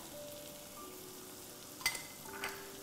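Vegetables with ground crayfish and garlic powder fry for coconut vegetable fried rice, a faint low sizzle under a couple of brief clatters of stirring near the end.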